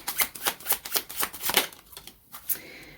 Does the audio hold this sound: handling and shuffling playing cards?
yes